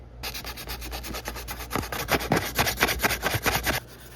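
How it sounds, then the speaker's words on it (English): Steady rhythmic rasping of sandpaper rubbed back and forth over a custom Bachmann model train engine, close and loud, growing stronger halfway through. "I can now go in with some sandpaper and just try and sand all this smooth"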